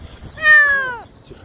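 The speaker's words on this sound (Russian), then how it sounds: "нашли котенка. Вот он." A black male kitten gives a single clear, close meow that rises and then falls, with quiet surroundings before and after.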